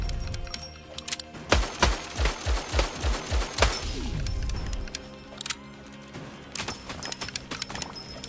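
Rapid-fire shooting in the co-op video game Gang of Frogs, a fast burst of about eight loud evenly spaced shots followed by scattered sharp impacts and clatter.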